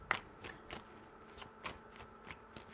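Tarot cards shuffled by hand in a quiet room, soft riffling whooshes in an uneven rhythm of about eight brief strokes, close and faint.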